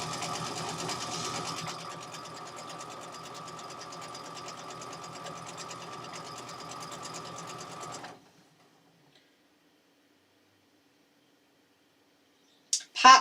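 A sewing machine feeds long fabric strip sets, running in a steady, close, continuous whir for about eight seconds before stopping abruptly into near silence, followed by a brief clatter at the end.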